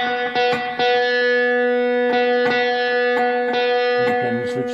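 An electric guitar plays through a Boss Katana Go amp with its reverb effect on, giving sustained, ringing chords and single notes with a long, washy tail, loud and close, with no talk.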